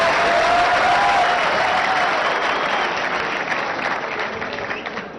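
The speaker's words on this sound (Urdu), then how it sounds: "میرے لیے تالیاں تو بجائیں" Studio audience on a Pakistani television talk show breaks into sustained applause, loud and dense at first and then gradually thinning, with a faint voice briefly heard at the start.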